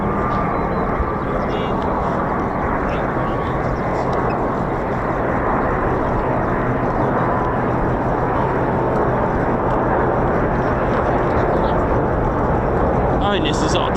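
Two RAF Eurofighter Typhoon FGR4 jets fly overhead, producing a loud, continuous roar that holds steady throughout while people talk.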